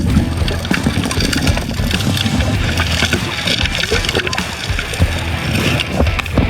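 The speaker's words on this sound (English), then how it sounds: "the sound of the material getting sucked up just sounds so good" Loud, continuous churning roar of a river gold dredge sucking gravel and water through its hose in a New Zealand river, with sloshing, gurgling and engine rumble underneath.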